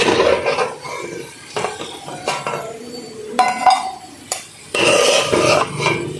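Roasted cashews being tipped into a metal vessel while making rava kesari, giving scattered clinks and rattling metallic scrapes in a few separate bursts, followed by a louder, denser clatter near the end.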